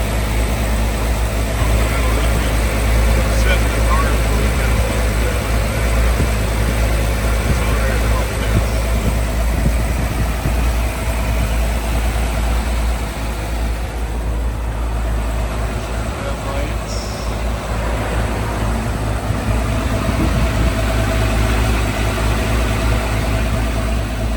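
A 1970 Toyota Land Cruiser fitted with a header idles steadily, a continuous low engine rumble running evenly throughout without rev changes.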